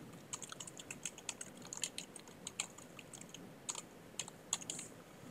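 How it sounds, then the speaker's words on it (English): Quick bursts of typing on a computer keyboard, with irregular light key clicks in short runs and pauses, fairly faint and close, with no talk. "So one way we could do it is just easily just typing"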